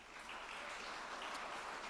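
Audience at a financial-crisis debate panel applauding the panelists, a soft, distant, even spread of clapping that holds steady for under two seconds.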